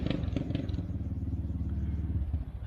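A 600 motorcycle with no muffler runs nearby, its loud, raw engine rumbling steadily with rapid firing pulses and a slight rise in revs toward the end.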